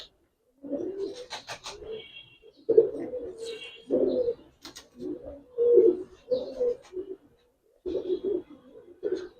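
Pigeons at a pigeon farm coo in repeated low, throaty bursts, close by, with short pauses between calls and a few faint chirps.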